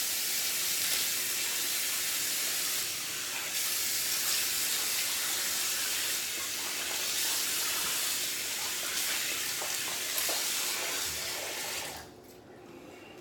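Tap water runs in a steady loud hiss while a Rockwell 6S safety razor is rinsed during a shave, then cuts off abruptly near the end.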